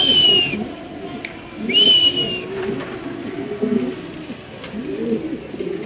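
A pair of white Spanish Mundian pigeons at a pigeon farm coo in soft, low, murmuring calls that run steadily throughout, with two brief high whistles early on.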